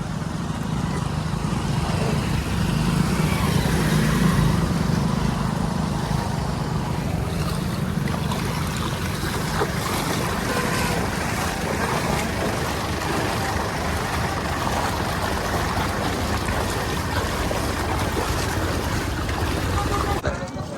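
Floodwater pours over an overflowing bridge on the Bein stream in rural Punjab. The rushing roar is loud, near and unbroken throughout, and faint voices may sit under it.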